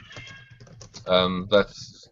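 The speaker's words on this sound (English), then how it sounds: "I can hear some of you typing a bit loudly." Participants type on computer keyboards, a run of quick clicking keystrokes close by under a person talking loudly over them.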